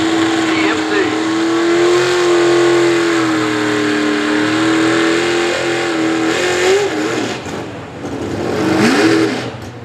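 A pulling truck's engine roars loud and close at a Southeastern Ohio Pulling Series truck and tractor pull in Caldwell, Ohio, holding a sustained high rev that dips near the end and then climbs again.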